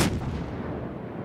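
A single heavy naval gun blast from the cruiser USS Helena in World of Warships, a sharp boom that rolls off into a rumbling decay, with no talking.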